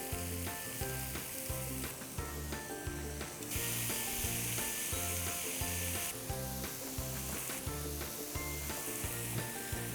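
Paneer tikka roll filling grills in a pan with a loud, continuous sizzle, its hiss swelling and easing in waves, with no voices over it.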